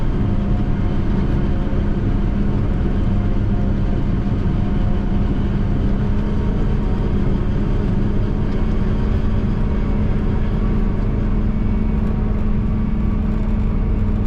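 A forage chopper harvests corn in a field, a loud, steady mechanical roar of engine and cutting machinery droning continuously at close range without pause.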